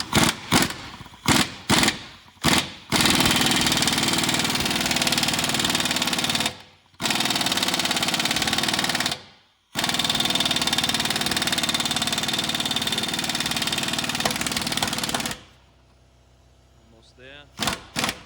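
A pneumatic impact wrench rattles on a lower ball joint press tool while a Ford Explorer Sport Trac's lower ball joint is removed, firing several short bursts and then long sustained hammering runs with brief pauses, loud and close.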